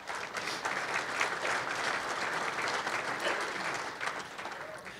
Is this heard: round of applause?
yes